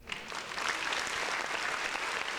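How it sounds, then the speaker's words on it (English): Audience applause on a podcast episode, a steady dense wash of clapping that holds at an even level for the whole stretch with no voices over it. "And round of applause again for Jedediah for fighting a good fight."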